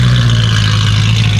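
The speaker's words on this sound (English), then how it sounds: "Bro, I feel like this might be the best sounding exhaust on these cars." Sports car exhaust at a car meet, a loud, sustained, deep engine drone held close by without a break.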